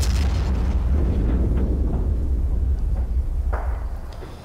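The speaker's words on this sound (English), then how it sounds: "I'm just going to fire a few shots out over there" Heavy booming blasts from a tank's main gun in the Men of War strategy game at Kasserine Pass, a loud rumbling detonation up front followed by smaller bursts and a fading low roar.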